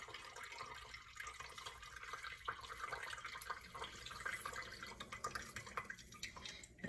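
Celery juice from a blender strains out of a pressed nut milk bag with faint, steady trickling and dripping, soft and close with a quiet, uneven liquid patter throughout.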